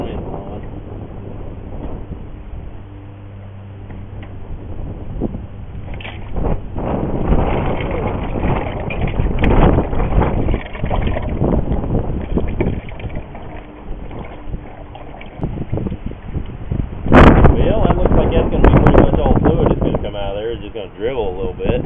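Wind buffets the microphone outdoors beside a 175C crawler loader during a hydraulic fluid and filter change, with gusty rumbling rising and falling throughout and someone talking over it.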